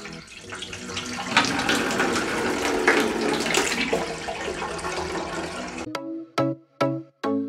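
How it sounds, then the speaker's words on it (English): Water rushes steadily through a PVC cabin ventilation system on a mini-cruiser sailboat, a loud broadband gush that cuts off abruptly, followed by a few short splashes and drips. "Let's test the efficiency of this system to drain water."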